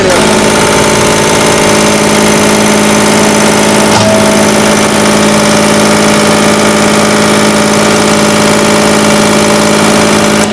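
A John Deere tractor engine runs loud and close on test after fuel pump modification, a steady, unbroken rumble that holds throughout.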